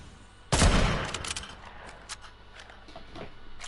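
Gunfire in a Fortnite match opens with a sharp, loud burst of shots, followed by a few fainter scattered cracks that fade out behind it.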